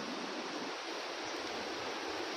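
River water near farm fields in Kauswagan, Magpet, North Cotabato, rushing in a steady, dense broadband wash that stays even and close throughout, with no voices.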